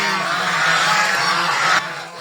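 Domestic geese on a farm give a loud, close, continuous honking call that stops abruptly near the end, with no talk.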